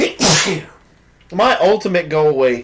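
One sharp, forceful sneeze up close, followed after a short pause by a person talking.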